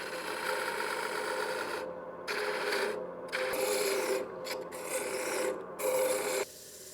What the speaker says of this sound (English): The little plywood block just gives me a little room to work my parting tools around as I'm shaping the top of the canister.